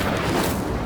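A fiery Incendio spell from Hogwarts Legacy, a brief roaring, crackling burst of flame that fills the moment with a dense, noisy whoosh.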